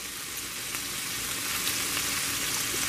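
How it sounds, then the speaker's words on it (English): Bacon fries in a pan with a steady, loud, dense sizzle and crackle, heard close up and alone, without any voices. "I like to fry up my bacon"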